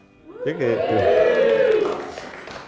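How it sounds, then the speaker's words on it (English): Wedding guests cheer and whoop together at a reception during the best man's speech, a loud swell of shouting voices that rises quickly, holds for over a second, then fades. "Cheer for that."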